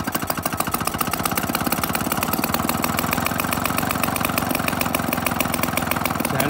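A Solex moped engine idles steadily up close, its loud, fast, even putter continuing without a break and with no talking.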